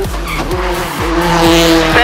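Peugeot 208 T16 rally car with a turbocharged engine, revving hard and climbing through the gears with repeated rising sweeps, each shift cutting in sharply, loud and close with tire squeal mixed in.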